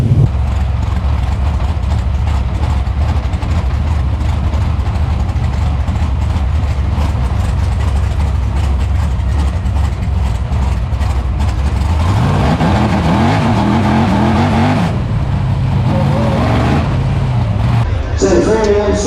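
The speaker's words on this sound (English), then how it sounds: "So the Formula 1 stock cars out for their first event of what promises to be a fantastic weekend racing for them" BriSCA Formula 1 stock cars circle the track in a race, their heavy engines rumbling and revving steadily throughout, with pitch shifts as cars pass near the end.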